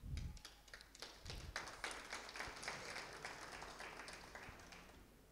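An audience at a formal francophone address breaks into applause, a dense patter of clapping that starts with a few loud claps and then settles into a steady, moderately distant wash before slowly thinning out.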